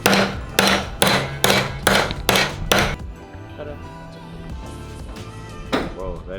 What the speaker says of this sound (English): bend it with the hammer